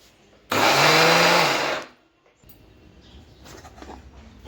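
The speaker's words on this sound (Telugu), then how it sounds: "వీటినైతే మనం ఇప్పుడు కొంచెం కచ్చాపచ్చగా గ్రైండ్ చేసుకుందాం" A kitchen mixer grinder coarsely grinds corn kernels in a jar, a loud whirring burst lasting over a second before stopping, followed by quieter rattling and handling sounds.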